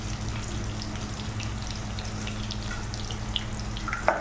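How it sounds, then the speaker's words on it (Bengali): Potatoes and chickpeas fry together in a pan with cauliflower, a soft, steady sizzle with a low hum and a few light crackles near the end. "আলু আর ছোলা একসঙ্গে ভেজে নেবো"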